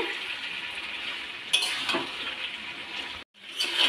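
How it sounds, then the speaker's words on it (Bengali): Chicken for chilli chicken fries in a pan with a steady, close, bright sizzle, and a utensil stirring and scraping through it, with a brief dropout near the end. "এবার একটু ভালো করে ভেজে নিতে হবে"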